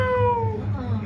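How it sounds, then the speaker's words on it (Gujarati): A cat sitting on a net gives one short, close, fairly loud meow with a falling tone. "અમારી નેટ ઉપર બિલાડી બેઠી છે"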